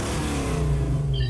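A car engine revs steadily in the Mad Max video game, a loud, continuous mid-low roar that rises slightly in pitch toward the end.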